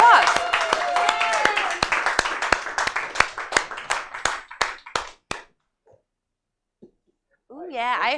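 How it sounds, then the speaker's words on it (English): An audience at a live comedy show claps in a burst of applause, dozens of hand claps that loosen into scattered, slowing claps before fading out, followed by voices talking. "Let's give them a big round of applause."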